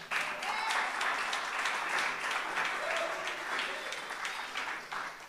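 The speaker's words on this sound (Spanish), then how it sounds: "Vamos a dar un fuerte aplauso a Dios." A church congregation in Alcobendas, Madrid, claps continuously for several seconds, a dense, steady wash of applause that tapers slightly toward the end.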